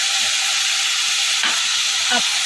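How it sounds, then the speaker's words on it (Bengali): Onion fries in a pan for prawn chochchori with potato and eggplant, giving a loud, continuous sizzle and hiss, while a couple of soft scrapes mark it being stirred. "পেঁয়াজটা দিয়েছি পেঁয়াজটা দিয়েও না ভালো করে নাড়াচাড়া করে নেবো"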